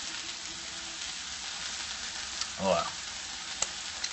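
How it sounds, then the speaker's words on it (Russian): Chicken pieces with carrots and onion frying in oil in a home pan, a steady broadband sizzle running throughout at moderate level, with a brief clatter of stirring near the end. "Точнее, сегодня я жарю курочку. С морковкой и лучком."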